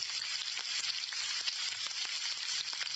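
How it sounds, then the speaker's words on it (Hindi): Mutton frying with lemon juice, ginger, garlic and turmeric gives a dense, bright, continuous sizzle with fine crackling pops, close up and steady, no voices. "इन तमाम चीज़ों के साथ गोश्त को अच्छी तरह से फ्राई करने वाले हैं"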